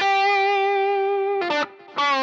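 A sustained, buzzy overdriven guitar tone from a pedalboard rings out for over a second, then two short, choppy strummed bursts follow with a brief gap between them.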